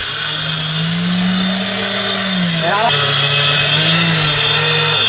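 Electric grinder machine grinding rice into rice flour, a steady loud continuous motor drone throughout with a brief pitch shift midway.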